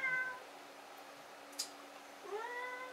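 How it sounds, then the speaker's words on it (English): A house cat meows indoors, a drawn-out cry at the start, then a brief quiet stretch with a small click, and a second rising meow near the end, fairly faint against low room hum. "That's my cat in the background."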